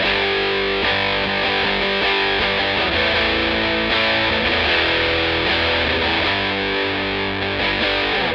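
High-gain electric guitar through a Big Muff fuzz tone on a TONEX MAX amp modeler, thick and saturated, playing sustained chords and notes steadily for about eight seconds with no voices.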